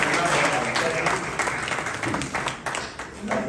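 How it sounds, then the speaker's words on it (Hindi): Audience applause at a Hindi book launch ceremony, a steady wash of many hands clapping that tapers slightly, with voices murmuring underneath. "तालियां उनके लिए बजाएं"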